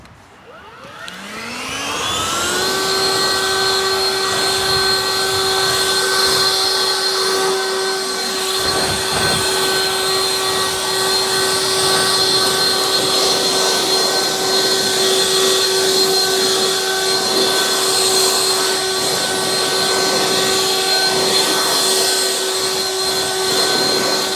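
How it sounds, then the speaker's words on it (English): A leaf blower clears debris out of a roof gutter valley, spooling up over the first few seconds to a loud, steady high-pitched whine that holds unbroken close by, with no talking. "Now we grab the blower again. Quickly blow down the valley one more time."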